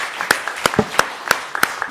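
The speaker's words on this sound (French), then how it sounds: "un tonnerre d'applaudissements à notre Bariza Chiari" An audience applauds steadily at a tribute ceremony, with sharp individual claps standing out against a continuous wash of clapping from a crowd.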